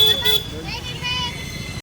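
Busy road traffic in a crowded fair area during a jatra festival, with a steady hum of engines and a high tone suggesting a horn near the start.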